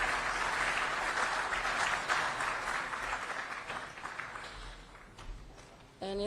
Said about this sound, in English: let's applaud them once again to our officials